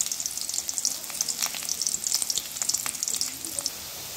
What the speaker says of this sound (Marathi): कांदा आपल्याला छानसा परतून घ्यायचा आहे